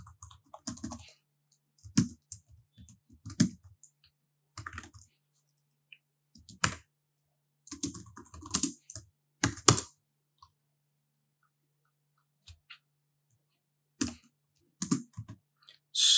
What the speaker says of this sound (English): I'm just gonna go ahead and create that this test